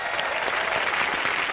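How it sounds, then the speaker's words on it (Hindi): Studio audience on the Indian comedy show Comedy Nights Live applauding loudly; a continuous, even wash of many hands clapping throughout, with no voices over it. "अकबर, अनारकली और सलीम के लिए जोरदार तालियां हो जाए।"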